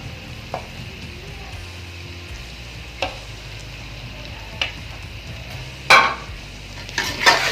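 Keema kachnar, minced meat cooked with kachnar buds, stirred in a pan after coriander goes in, a soft low sizzle with occasional spoon scrapes and clinks against the pan, the busiest clatter near the end.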